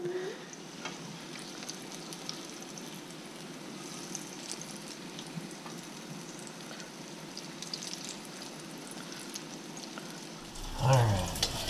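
Crappie fish eggs fry in a pan with a steady, soft sizzle that runs unbroken and fairly quiet, ending with a brief clatter near the close.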